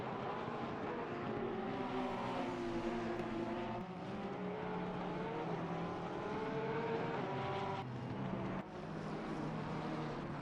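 Several Porsche race cars at the Hungaroring in the Assetto Corsa Competizione sim racing game, engines droning loudly and continuously with rising and falling harmonic whines as they run close together.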